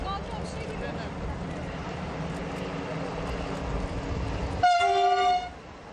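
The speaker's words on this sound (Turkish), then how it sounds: "Tren öylece geçip gitmiş" A train rumbles steadily through a station and then blasts its horn loudly for about a second near the end, with voices talking underneath.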